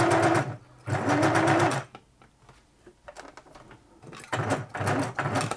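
A 1980s Singer Futura sewing machine stuck in reverse runs in loud, rapid whirring bursts, stopping and restarting several times with brief quiet gaps between runs.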